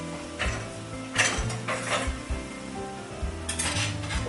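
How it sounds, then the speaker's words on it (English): Tomatoes are pushed off a platter into a pot of marinara sauce, making a series of close scraping and clattering kitchen sounds with soft wet plops and a faint sizzle underneath. "So I'm going to take that whole platter of tomatoes and dump that right into the sauce."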